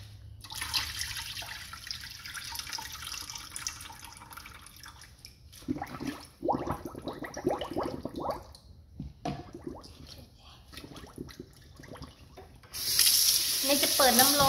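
Hot water runs from a kitchen tap while pork skin is washed to rinse off fat, a steady close stream broken by splashing and squishy handling, then surging louder at the very end.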